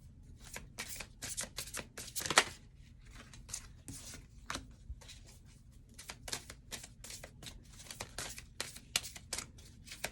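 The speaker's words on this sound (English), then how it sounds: "while I'm shuffling." Tarot cards are shuffled by hand in repeated quick riffling bursts, close and fairly soft, with short pauses between them and no talking.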